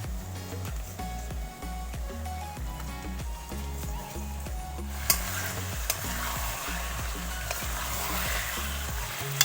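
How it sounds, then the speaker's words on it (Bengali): Marinated chicken, coated in salt and turmeric, hits lightly fried onions in a pan, giving steady sizzling with scraping stirring strokes and a few sharp clanks near the end; music plays throughout. "এবারে পেঁয়াজটা হালকা হালকা ভাজা হয়ে আসলে এর মধ্যে ম্যারিনেট করে রাখা লবণ দিয়ে লবণ হলুদ দিয়ে মাখা চিকেনটা দিয়ে দিতে হবে"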